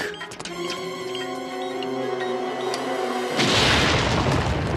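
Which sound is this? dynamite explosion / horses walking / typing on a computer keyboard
dynamite explosion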